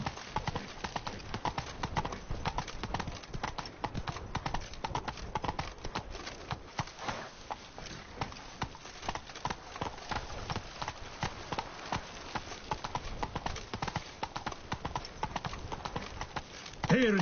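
Roach the horse's hooves galloping in The Witcher 3: Blood and Wine around Beauclair, a fast, continuous clip-clop rhythm running throughout at steady moderate loudness, with a brief different sound at the very end.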